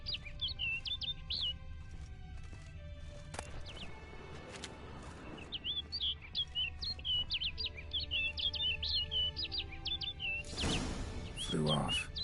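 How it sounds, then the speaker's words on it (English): Bright, rapid bird chirps and twittering calls in a video game, repeating in bursts over a low ambient hum, with a louder rushing swell near the end. "Looks like the bird's leading me somewhere."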